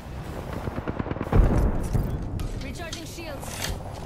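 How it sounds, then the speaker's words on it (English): Rapid bursts of gunfire in the video game Apex Legends, with a loud booming peak mid-clip amid dense battle noise, under intermittent game voice lines. "The enemies are shooting."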